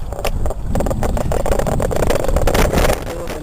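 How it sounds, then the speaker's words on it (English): Small motorized bicycle engine sputters into life and runs at a loud, rough, rapid putter very close, with knocking pulses throughout and mechanical rattle underneath. "once I pop the clutch, it started, I put in the clutch and it's idling."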